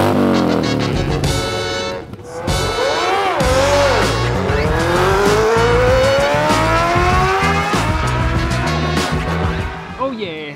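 Motocross motorcycles racing at a mud festival in San Vicente, Palawan: loud, continuous engine roar with rising and falling revs as bikes accelerate past, close and dense, with crowd noise mixed in beneath.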